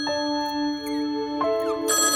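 A mobile phone ringtone plays a short electronic melody of bright, clear tones, close and steady, with no talking.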